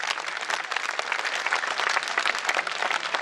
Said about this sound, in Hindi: आपकी तालियां माला के चढ़ने तक बंद नहीं होनी चाहिए।